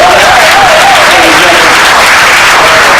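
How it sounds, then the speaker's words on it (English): Wedding guests applaud the best man at a reception, a loud, dense crowd of clapping mixed with cheering voices, very close and sustained for the whole stretch. "A round of applause for our best man."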